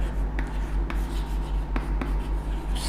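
A marker or chalk scratches across a board in short strokes and taps, close and fairly quiet over a low steady hum, with no speech.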